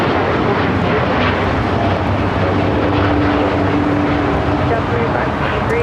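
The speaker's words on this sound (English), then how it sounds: "This is Japan Airlines Flight 69 taking off to Osaka on a 787-9 Dreamliner" Japan Airlines Boeing 787-9 Dreamliner taking off, a constant heavy engine roar with a faint steady whine in it, loud and unbroken throughout.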